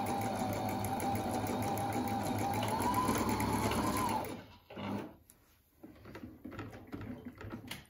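A Husqvarna 230 Electronic sewing machine runs a stitch with a steady, loud mechanical whirr for about four seconds, then stops, leaving quieter clicks and handling noises.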